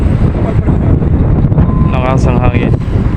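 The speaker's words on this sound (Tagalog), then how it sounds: "Malakas ang hangin yun." Strong wind buffets the microphone aboard the ship MV Virgen de Piñafrancia XII near Port Masbate, a dense, roaring rush throughout. A brief faint voice surfaces late in the clip.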